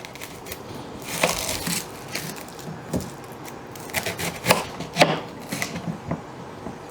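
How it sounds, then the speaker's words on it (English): A knife chops half an onion for a hearty bean soup, giving irregular soft taps and scrapes on a board, fairly quiet and close against low background noise. "And then we just chop up our onion."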